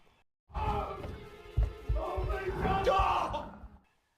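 A man screams in pain in a film, loud anguished yelling and bellowing sustained for about three seconds, then cutting off.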